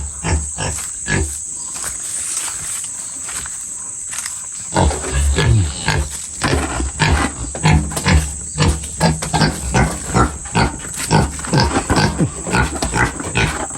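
A pig eats watermelon rind, giving repeated wet chomping and crunching in a quick steady rhythm, close and fairly loud, with a few soft grunts.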